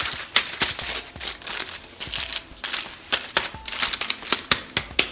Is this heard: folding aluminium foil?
yes